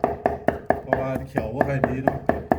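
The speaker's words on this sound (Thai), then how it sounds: "ฟังเสียงสับกับมูแล้วครับ" A knife chops rapidly and evenly on a board, mincing beef for Thai larb with about a dozen sharp, close strikes in a steady rhythm.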